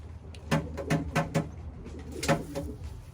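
Pigeons cooing at a loft in a camp, a few soft low coos in short bursts, close by and fairly quiet, with no talk.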